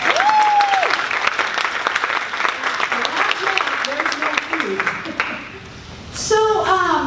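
Audience applause at an annual agency relations meeting, a loud sustained clapping that thins out toward the end as a voice begins speaking over it.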